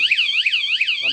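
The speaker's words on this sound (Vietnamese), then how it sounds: "nó khi nó rung lên thì nó sẽ báo động các bác nhá" A bicycle anti-theft vibration alarm blares a loud, rapidly warbling electronic siren in a steady repeating sweep, with a brief different tone cutting in at the end.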